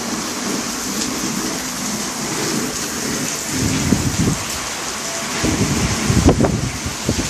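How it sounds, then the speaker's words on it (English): Heavy rain from storm Andrea pours down steadily, a dense continuous hiss on surfaces with louder bursts of drumming toward the end, no voices. "I have to deal with that sound every night when it rains."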